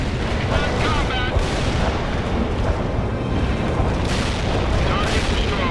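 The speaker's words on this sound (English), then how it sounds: "Daisy Cutter is inbound." Heavy Daisy Cutter bomb blast in the World in Conflict strategy game, a loud sustained rumbling roar of booms and battle noise filling the whole stretch, with radio-style voice chatter over it.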